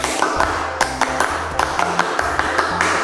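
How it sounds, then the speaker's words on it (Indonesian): A Pramuka scout rhythmic clap, a group clapping in a crisp, patterned beat with short syncopated bursts, loud and close, over a low tonal hum. "Satu kali tepuk pramuka."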